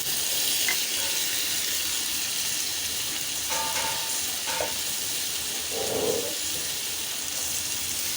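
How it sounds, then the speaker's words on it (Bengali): Potatoes sizzle and hiss steadily in a hot pan as tomato is added, a constant close frying crackle with a few faint clinks and one brief bubbling surge, no talk. "আলুটা মোটামুটি ভাজা হওয়ার মধ্যে আমি দিয়ে দিচ্ছি"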